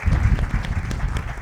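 Loud burst of audience applause at a panel discussion, a close, dense wash of clapping with heavy low rumble.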